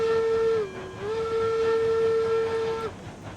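A steam locomotive whistle in the railroad game RailRoads Online gives one long, loud, steady tone with a brief dip in pitch partway through, with a faint hiss under it and no speech.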